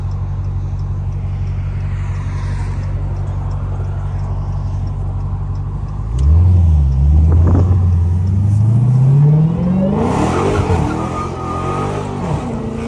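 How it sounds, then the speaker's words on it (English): Dodge SRT Hellcat with its supercharger, a steady low idle rumble that swells around the midpoint into a loud, rising rev with a climbing whine, then settles into a rougher, fluttering roar. "Don't never walk in the road when you hear this supercharger whining."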